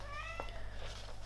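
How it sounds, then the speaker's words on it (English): House cat meows once, faint and somewhat distant, with a short rising-falling cry over a low steady hum. "Hey, Waji, that's my cat."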